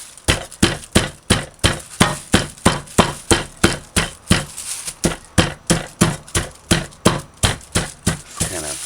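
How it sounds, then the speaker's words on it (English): Steady, rapid hammer blows strike a conch shell over and over, sharp cracking knocks in an even rhythm throughout. "Kind of break it up with the hammer."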